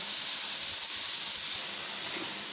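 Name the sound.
tomatoes frying in a pan for masala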